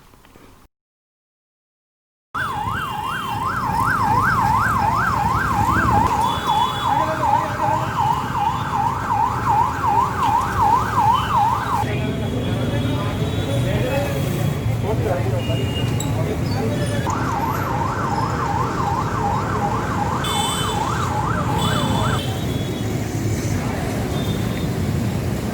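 A 108 ambulance in Telangana sounds its siren, a loud, rapidly wailing two-tone warble heard close for several seconds, pausing, then returning, over constant road traffic noise.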